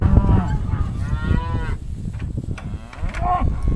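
Cattle on a farm moo repeatedly in a long, drawn-out series of calls, several overlapping lows close by, with wind and outdoor background noise underneath.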